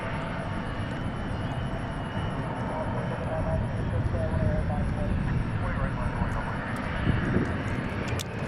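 Airplane jet engine roaring at DFW International Airport, a loud continuous rumble and whine filling the whole stretch with no break.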